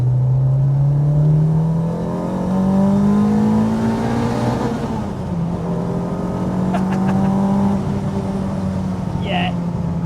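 The naturally aspirated 2.0 engine of a Renault 5 Campus revs up and down in smooth, rising and falling sweeps, loud and close, with a brief click partway through.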